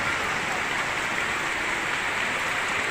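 Rain pours steadily on an afternoon, a dense, even hiss of drops that stays constant throughout, with no voices.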